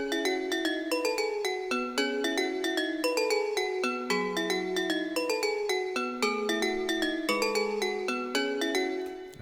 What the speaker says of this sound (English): It's just the main key or bell, and this sounds like this.